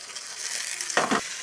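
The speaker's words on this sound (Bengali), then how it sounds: "ভালো করে ভেজে নেবো।" Potatoes and onions with kenduri fry in a pan with dried chillies, making a soft, continuous sizzle close by, broken near the end by a short scraping stir.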